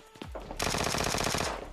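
Rapid automatic gunfire in a video game, a near, loud burst of quick evenly spaced shots lasting about a second after a couple of single reports.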